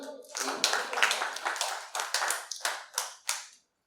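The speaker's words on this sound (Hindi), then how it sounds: "एक बार तालियां बजाएंगे" An audience at a Hindi kavi sammelan poetry recital claps in a short, uneven burst of distinct hand claps that come in separate waves and taper off into silence.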